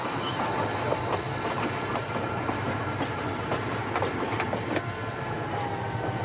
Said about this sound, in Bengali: ধীর গতিতে ট্রেন হুইসেল বাজিয়ে এগিয়ে চলল সামনের দিকে।